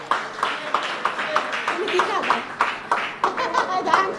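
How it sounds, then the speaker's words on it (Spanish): Men in a church congregation applaud the mothers with rhythmic, fairly evenly spaced clapping at moderate volume, mixed with voices and chatter, including a child's. "Varones, un aplauso para las madres."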